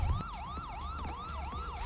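An ambulance siren in a role-play video game wails in a fast, repeating rise-and-fall cycle. It is loud, close and steady, with no talk over it.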